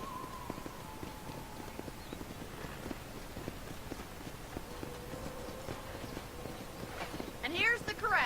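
Hooves of horses clip-clopping in a ranch corral in Red Dead Redemption, a steady rhythmic trot under ongoing voices, with a whinny-like tonal sound and a louder burst near the end.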